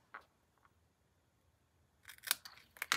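Scissors snip through cardstock for a handmade stamped greeting card, with a short cut near the start and then a quick burst of several crisp, close snips toward the end, no talking.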